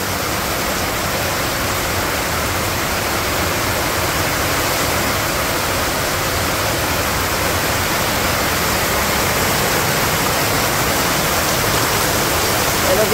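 Monsoon rain pours over a village in Bangladesh, a dense, steady roar of water that holds at an even loudness from start to finish with no pauses.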